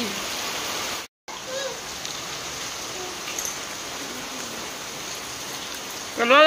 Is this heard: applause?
no